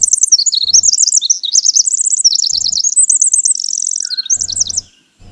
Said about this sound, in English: Also sounds similar to the winter wren.